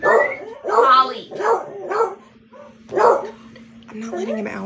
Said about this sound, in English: Charlie, just because Margot's barking doesn't mean you gotta bark.